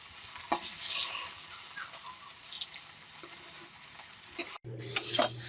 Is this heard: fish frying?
yes